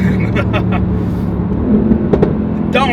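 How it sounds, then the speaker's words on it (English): A loud Mercedes-Benz AMG GT R sports car engine revs and drops through downshifts, with brief bursts of throttle, while a person talks excitedly over it. "The downshifts are just epic. It's so loud, it's so aggressive."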